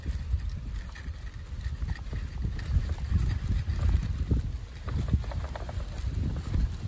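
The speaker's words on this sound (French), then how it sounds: "Ah pardon, mais il y a encore du vent." Steady wind buffets the microphone, a low rumbling roar with gusty thumps throughout and no voices.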